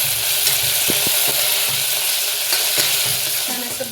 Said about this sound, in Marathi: त्याची पेस्ट करून घेतली आहे, ती सुद्धा आपण परतून घ्यायची आहे।